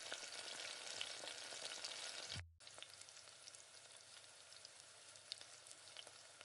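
Asafoetida sautéing in hot oil in a pan on a stove, a steady dense sizzle and crackle with a short break as the pan is stirred, close and continuous without talk.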